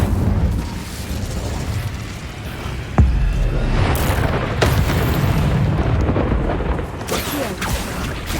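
An Incendio fire spell cast in Hogwarts Legacy inside a cave maze, one sharp burst ringing out over a constant roaring, rumbling game backdrop.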